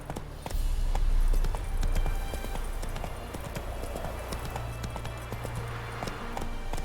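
Horse hooves clip-clop at a fast gallop in The Witcher 3 video game, a steady run of close, loud hoofbeats carrying across the whole stretch, with no talk over them.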